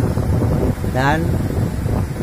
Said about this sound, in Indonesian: angin agak kuat, gelombang agak kuat.